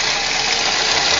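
A Toyota 1NZ 1.5-litre engine runs with a rattling, knocking timing chain, a short burst of dense, loud mechanical clatter with no talk.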